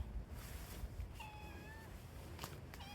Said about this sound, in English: The cat has joined me.